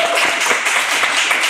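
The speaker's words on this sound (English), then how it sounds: "round of applause." Audience applause after a founder's startup pitch in front of investors: a brief, dense wash of clapping that stays steady and fairly loud for a second and a half.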